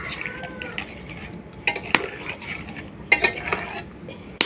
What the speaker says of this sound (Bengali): আর ঢাকনা দিয়ে দেবো।